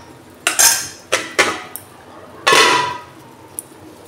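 A metal spoon clinks and scrapes against a pot of nearly boiled dal being stirred: a few sharp, close clanks in quick pairs, then a longer scraping sweep and one faint final tap.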